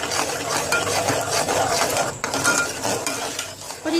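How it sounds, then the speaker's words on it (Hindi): Rice flour dough is mixed quickly by hand, producing a close, continuous scraping and stirring rustle with soft irregular thuds and no speech. "और इसको बहुत तेज़ी से मिक्स करेंगे इस तरह से।"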